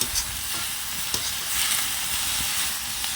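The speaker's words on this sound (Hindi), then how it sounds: "भून लेंगे हम और करछी चम्मच की मदद से अच्छे से मिक्स कर लेंगे, ताकि मसाले और आलू हरे पत्तों के साथ अच्छे से मिक्स हो जाए।" Potatoes and leafy greens fry in a kadhai while a ladle stirs them, producing a steady close sizzle and hiss with occasional scraping knocks and no speech.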